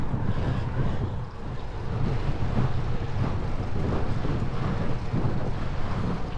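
Steady wind buffeting the microphone while riding a bicycle outdoors on a breezy day, a continuous low rumbling roar with slight surges and no speech.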